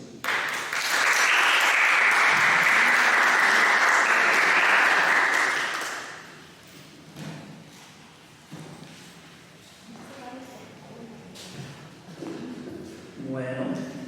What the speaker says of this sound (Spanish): Un gran aplauso de nuevo por nuestro